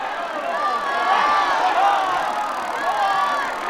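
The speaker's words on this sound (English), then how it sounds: "The crowd is on its feet!" Quidditch match crowd cheering in the Harry Potter and the Philosopher's Stone PS1 video game: a steady, dense roar of many voices sustained throughout the clip.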